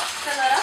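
Water splashing and rushing inside an aquarium tank being filled for a water test, a steady bright wash of sound heard alone at close range.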